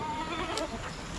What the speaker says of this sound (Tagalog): Yung mga kambing natin na lalaki oh.